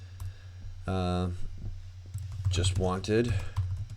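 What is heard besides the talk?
typing on a computer keyboard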